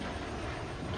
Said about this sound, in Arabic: هاي هم والله الطيارة.